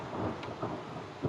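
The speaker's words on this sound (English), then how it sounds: "There's the thunder." Thunder in a storm with lightning and hail, a low continuous rumble washed with rain-like hiss, moderately loud and without any talking.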